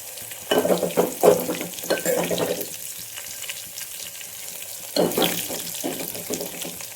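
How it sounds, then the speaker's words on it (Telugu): Onions fry in a tempering for raw mango dal, bursts of crackling sizzle and stirring scrapes in the pan, loud in uneven clusters with a quieter stretch between, close up. "తిరగమాత వేగుతుంది చూడండి"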